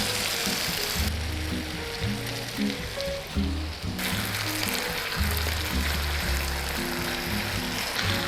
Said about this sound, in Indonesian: Kita masak sampai si airnya ini reduce.